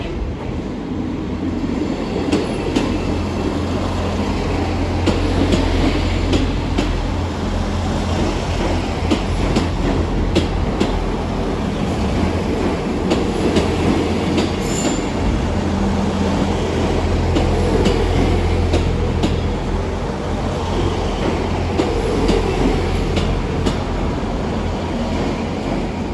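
A South Western Railway class 159 diesel multiple unit stands at Exeter St Davids station, its engine rumbling steadily and close by throughout, with faint clicks and station noise.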